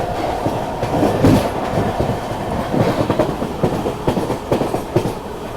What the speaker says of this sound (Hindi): और ये खड़ी है अवध एक्सप्रेस को ओवरटेक कर रहे हैं हम।